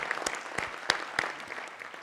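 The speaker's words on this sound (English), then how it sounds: "So a big round of applause for the men and women who are taking care of us today." Scattered applause from an awards event audience, a few sharp distinct claps standing out over a faint crowd, quiet and brief.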